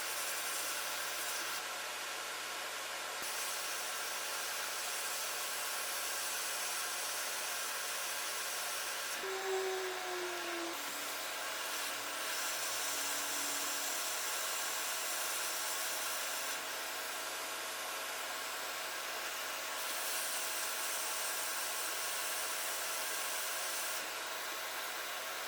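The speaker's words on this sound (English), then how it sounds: "It's going to get a little bit loud because I'm going to put my extractor fan on because of the flux." Hot air rework station and extractor fan running while repairing a faulty Xbox One S console board: a steady, loud broadband whoosh of blowing air throughout, with a faint low hum underneath.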